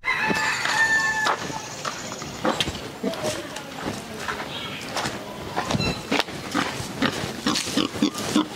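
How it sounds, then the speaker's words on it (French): A pig grunts alongside a rooster crowing nearby, with clucking fowl in a busy farmyard; a voice talks faintly underneath the animal sounds. "C'est cochon."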